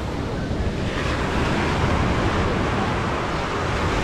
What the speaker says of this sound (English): Ooh, look at this beach. Okay, definitely got some wavy action.